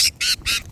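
Pet birds squawking while eating seed, three short harsh calls in quick succession, close and fairly loud.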